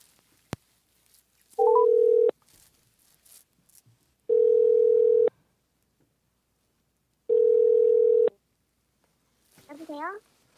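A telephone ringback tone sounds three times in long, evenly spaced steady beeps while a call to a protester's parent connects, with a short click at the start and a brief voice at the end.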